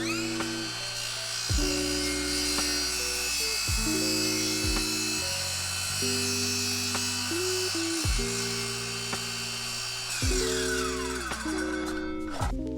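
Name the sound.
power saw cutting a plywood sheet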